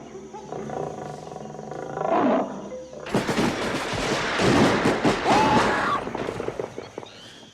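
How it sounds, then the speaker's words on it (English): Tiger roaring from a trail camera recording outdoors, a loud, rough roar that swells and repeats over several seconds with a few fainter growls before it; voices can be heard faintly in the background. "A tiger in Africa?"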